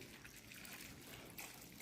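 A tumbler of water is poured into a pan of crushed cucumber while making cucumber curd pachadi, giving a soft, steady trickle and splash that is faint and close, with no speech.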